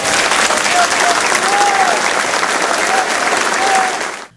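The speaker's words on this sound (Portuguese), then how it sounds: "A despedida ao zagueiro Felipe Machado, de 32 anos, foi na Arena Grêmio e teve música e aplausos." Sustained applause from a crowd at a football player's farewell held at Arena Grêmio, steady and loud throughout with faint whistles, then cutting off near the end.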